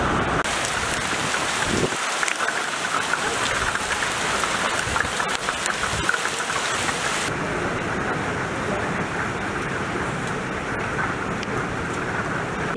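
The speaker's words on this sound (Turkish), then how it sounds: "Şanlıurfa'da sağanak yağış ve dolu etkili oldu." A heavy rain shower with hail pours down over a city centre in Şanlıurfa, a dense continuous hiss of rain on hard surfaces throughout, with traffic noise mixed in and no talk.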